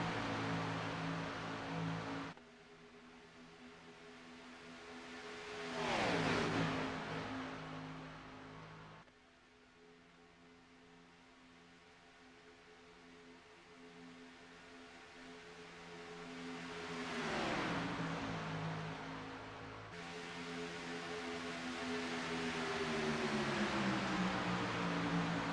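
Race cars circle an oval track, engines droning with a steady tone that rises and falls as cars approach and pass by, with several rushing swells as the pack goes by, moderately distant.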